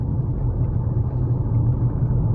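A Mitsubishi Outlander PHEV accelerates up a hill, giving a steady, close low rumble of cabin and road noise with no voices.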